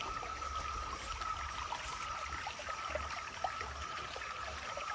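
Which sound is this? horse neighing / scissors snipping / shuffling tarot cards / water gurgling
water gurgling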